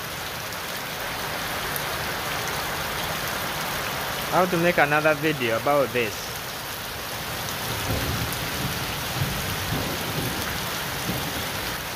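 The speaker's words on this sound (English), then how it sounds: "It's raining now for 3 consecutive hours." Heavy, steady rain pours down across a stadium construction site for the whole stretch, with a brief spoken remark in the middle and rumbling undertones beneath the hiss.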